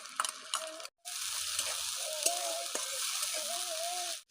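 Ground mustard paste going into browned onions in a frying pan, giving a steady, close sizzle with a few scrapes of stirring, after a brief pause near the start.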